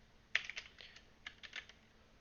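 A file name is typed on a computer keyboard in a short, quiet burst of a dozen or so close key clicks in an uneven rhythm, with no talking.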